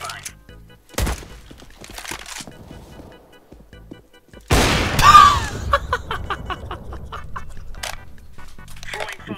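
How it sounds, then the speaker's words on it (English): A flashbang goes off in a video game: one sharp, loud burst in the middle, followed by a ringing tone and scattered clatter, with voices chatting around it. "Throwing flashbang."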